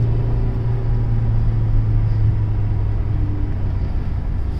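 A Renault Twingo Mk1 small car on a short drive gives a steady, loud engine and road rumble from inside the cabin, continuous throughout with no talk.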